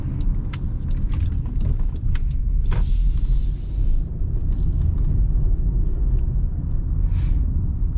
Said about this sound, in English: go over some speed bumps, see how the car handles